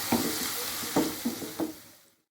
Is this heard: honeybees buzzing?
no